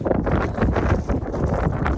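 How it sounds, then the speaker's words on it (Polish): Strong wind buffeting a microphone outdoors near rapeseed and wheat fields, loud rumbling gusts that pulse unevenly and continuously, with no talk. "Ja nie jestem w ogóle pewien, czy coś dzisiaj na tym wietrze Wam nagram, bo to tak targa."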